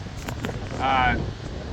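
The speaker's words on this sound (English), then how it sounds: "it's a bit windy out here" Low rumbling wind buffets the microphone outdoors, steady and fairly loud, with a voice speaking underneath.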